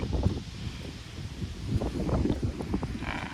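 Gusty wind buffets the microphone outdoors in mountain country near a stream, a steady rumbling roar with rustling over the whole stretch.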